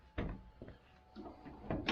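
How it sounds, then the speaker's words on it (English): The door of a 1956 Oldsmobile opens with a few soft mechanical clunks and latch clicks close to the microphone, quiet overall, ending in a brief louder rustle. "And if I open the door,"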